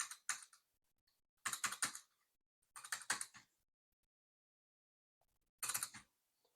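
Numbers tapped out on a computer keyboard in four short bursts of quick, close, clicking keystrokes, separated by quiet pauses.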